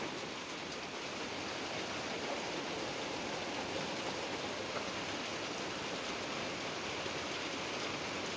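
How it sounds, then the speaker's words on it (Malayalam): Heavy rain pouring down in a steady, dense hiss that never lets up, close and loud, with no voices. "നല്ല മഴ."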